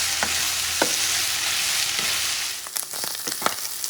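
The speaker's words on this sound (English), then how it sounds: "mix things around and continue cooking until the meat darkens." Longaniza sausage meat for Mexican-style tacos fries in a pan, giving a dense, close sizzle with a few sharp stirring clicks and scrapes near the end.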